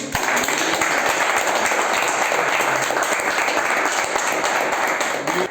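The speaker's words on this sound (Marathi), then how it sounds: "त्याबद्दल जोरदार टाळ्या वाजवून" Loud, dense applause from an audience at a Marathi honours ceremony, greeting the winner of an entrepreneur award, sustained evenly and close for the whole stretch.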